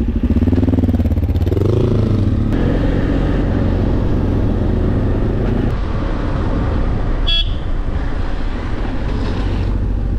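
A BMW F800GS or Kawasaki KLE 500 motorcycle rides off-road through mud and sand, its engine loud and close with a brief rising rev early, over constant rumble and wind buffeting.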